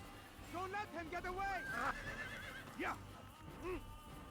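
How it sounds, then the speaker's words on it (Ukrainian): A horse whinnies in the Assassin's Creed game, with rising and falling neighs and a few hoof clops, close and clear; someone talks over parts of it. "я тут колись коня припаркував"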